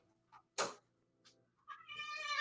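A cat gives a brief meow, followed by a louder drawn-out cry rising at the end, close and without talk.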